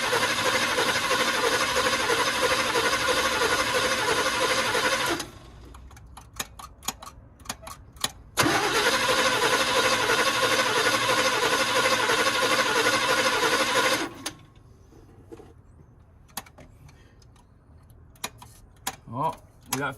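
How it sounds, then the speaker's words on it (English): A 1962 Chevrolet pickup engine, sidelined for about twenty years, cranks over on the starter in two long, loud, steady bursts of around five seconds each without catching, with quiet clicks and shuffling in between. "Start rolling this thing over to see if it'll pick up some fuel and fire up."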